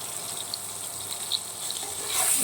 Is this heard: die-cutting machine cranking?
no